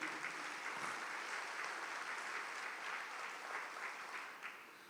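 A large church congregation claps together in a dense, sustained wash of applause that holds steady for several seconds and then begins to thin out, with no voices over it.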